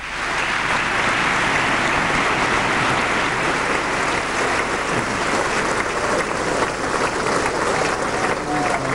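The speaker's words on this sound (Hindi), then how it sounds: "तालियों की गड़गड़ाहट रुकने का नाम ही नहीं ले रही थी" Thunderous, sustained applause from members of the US Congress in a joint session for Indian Prime Minister Narendra Modi, a dense unbroken roar of clapping that holds steady at full loudness throughout.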